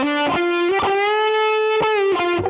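Electric guitar through a distorted amp setting, sustaining a thick, harmonically rich held note with a few brief pick attacks and slight pitch shifts, loud and close with no voices.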